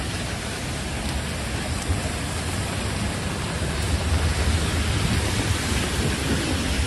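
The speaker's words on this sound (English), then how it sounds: "Very rainy night it is." Heavy rain pours at night in New York City, a dense, unbroken roar of downpour that stays loud and even throughout, with no talk over it.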